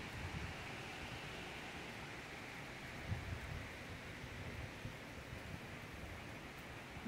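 Heavy rain pours steadily outside among houses and green trees, a dense, even hiss with a few faint drops and no voices.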